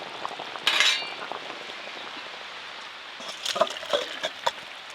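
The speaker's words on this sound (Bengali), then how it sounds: "দু একবার ভালো করে ফুটিয়ে নিয়ে ঢেলে নেব" Elephant foot yam and egg curry bubbles and simmers in a pan with a steady soft crackle, with a louder burst of spluttering early on and brisk popping bubbles toward the end.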